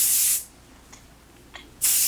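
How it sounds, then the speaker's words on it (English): Hairspray from an aerosol can misting onto a young dancer's hair while it is styled into pigtails; two loud, sustained hissing bursts at the start and end, separated by a quiet gap. "I'm gonna give her another big spray."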